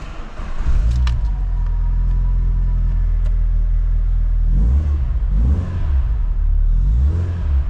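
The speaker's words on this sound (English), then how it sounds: "Start the car just to demonstrate that it starts, idles, and has no warning lights." A Renault Clio 182 fitted with a K-Tech induction kit cranks and fires up, settling into a steady rumbling idle, then gives a few loud, throaty blips of revs near the end; no one speaks.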